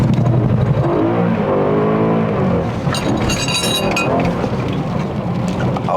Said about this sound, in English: we want to hear the V8